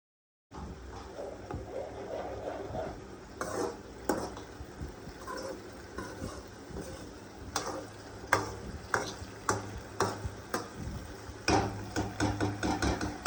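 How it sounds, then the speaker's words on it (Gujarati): Raw mango chutney being stirred in a pan on the stove, with steady sizzling under repeated clacks and scrapes of a spoon against the pan that come faster and sharper toward the end. "બરાબર, પહેલાં આના થોડીક વાર આપણે હલાવી લઈએ"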